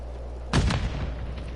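A grenade explodes in the battle royale video game Warzone: one sudden, fairly loud boom with a short rumbling tail that rises over a steady low background hum.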